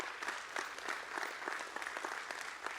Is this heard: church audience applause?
yes